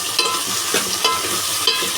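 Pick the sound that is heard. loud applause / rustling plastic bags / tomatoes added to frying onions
tomatoes added to frying onions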